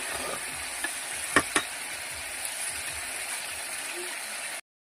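Fried bhola fish pieces going into hot oil and being stirred, a steady close sizzle with a couple of sharp clinks of a utensil against the pan, ending abruptly.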